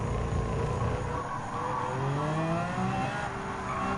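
A 2010 Lexus LFA hypercar engine revs in Gran Turismo 7 during a hypercar race, a steady mid-level drone whose pitch climbs and sweeps through gear changes.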